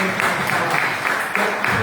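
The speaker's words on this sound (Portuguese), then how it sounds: "Aplauda o Senhor." A church congregation claps along in rhythmic, repeated bursts, a full and fairly loud sound that continues for the whole short stretch.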